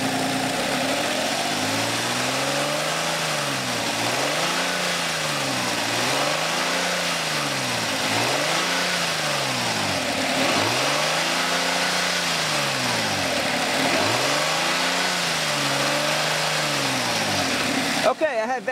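A car engine runs steadily at idle for a long stretch during EGR valve testing on a P0400 fault, with repeated slow rises and falls in pitch like gentle revving, ending in a brief clatter.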